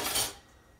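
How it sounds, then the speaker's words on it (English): Dishes and cutlery being dried by hand in a home kitchen, a short bright clatter and scrape of utensils up close, fading into a quiet room. "I'll dry these few dishes we've had."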